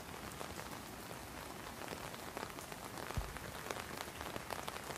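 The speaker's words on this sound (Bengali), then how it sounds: "এই বৃষ্টি, হ্যাঁ" Steady rain pattering on surfaces at Padma Bil, a large lotus and water-lily lake, a dense, even hiss of drops throughout with a few louder close splashes; no talk.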